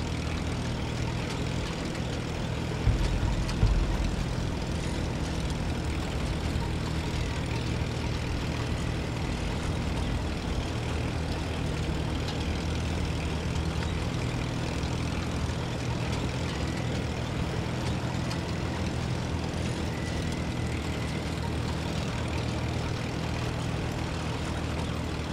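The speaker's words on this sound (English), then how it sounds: "I'm hearing a lot of wind sounds, that's pretty much it." Steady, continuous wind blows through the open world of the meditative indie game Titan Chaser, a broad, even rush with a low droning undertone that holds for the whole stretch, with only a brief low bump early on and no talking.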